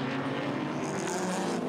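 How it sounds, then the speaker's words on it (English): Barry Kirkbanan's BMW M3 GTR replica race car with a V8 engine, racing at Hampton Downs, screams at sustained high revs, loud and steady throughout. "You could hear the screaming V8 and Barry Kirkbanan's"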